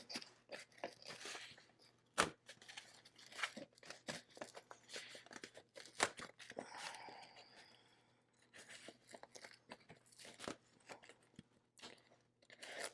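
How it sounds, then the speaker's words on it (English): Scissors cutting open the plastic packaging of a diamond painting kit, with close crinkling, snipping and crunching in irregular bursts, a few sharp clicks, and quieter pauses between cuts. "So I'm going to cut this, but I don't want to cut into the kit."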